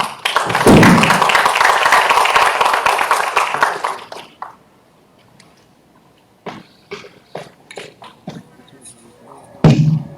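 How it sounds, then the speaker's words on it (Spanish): An audience claps loudly in a dense burst of applause to welcome a speaker at a lecture, fading after about four seconds into scattered taps and thumps. "le recibimos con fuertes aplausos para dar inicio a la exposición"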